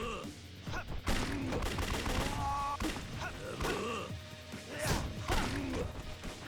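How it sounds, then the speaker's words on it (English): Pistol gunfire in the video game Yakuza 3, with a dual-pistol enemy shooting amid sharp cracks, crashes and thuds of combat in rapid irregular bursts, loud and busy throughout. "pulls out a couple of pistols and he starts basically mimicking Arase."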